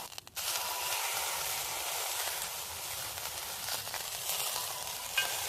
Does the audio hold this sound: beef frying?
yes